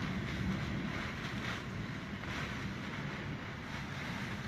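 Hurricane floodwater and waves battering the rear stairs and landing of a house in Freeport, Bahamas, driven by strong wind, a continuous loud roar of surging water and gusts with heavy wind buffeting on the microphone.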